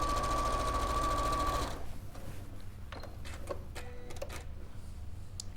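A sewing machine stitching a quarter-inch seam on a quilt piece runs steadily for the first couple of seconds, then stops, leaving quieter room noise with faint clicks and handling sounds.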